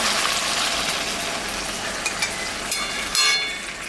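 Ridge gourd sizzles steadily in a hot pan as a mustard paste with white sesame and green chilli goes in, a dense continuous frying hiss with a few brief stirring clatters and a short louder burst near the end.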